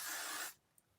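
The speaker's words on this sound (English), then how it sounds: "This stupid spray is like, the nozzle's messed up." A spray bottle with a faulty nozzle hisses in one continuous burst for about half a second, then cuts off, followed by a faint click.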